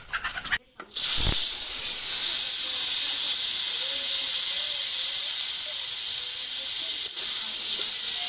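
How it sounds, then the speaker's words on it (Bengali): A cooking stove (chula) in a village kitchen is lit: brief handling noise and a sharp ignition burst give way to a loud, steady hiss of flame that holds close and unbroken, with no talking. "চুলাটা আমি এখন ধরিয়ে নেব।"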